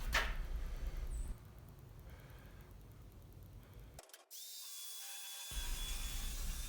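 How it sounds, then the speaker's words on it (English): A belt sander fitted with 80 grit sandpaper works over wood joints on boards and a frame, giving a grinding, abrasive whir with a sharp cut-off partway and a pitch-shifted restart, all fairly close. "I used a belt sander with 80 grit sandpaper to sand the joints of all the boards and the frame itself"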